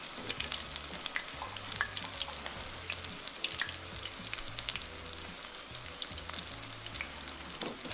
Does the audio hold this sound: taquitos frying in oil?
yes